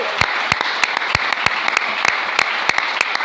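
A church congregation applauding in steady rhythmic unison, sharp evenly spaced claps at a moderate pace, clear and fairly close.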